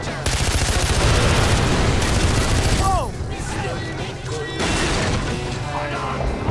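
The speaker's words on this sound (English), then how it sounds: "There's a gun underneath the dashboard!" Heavy automatic gunfire rattles loud and continuous from a gun under a vehicle's dashboard in the video game Far Cry 4, a dense burst lasting several seconds before easing slightly, with faint voices beneath.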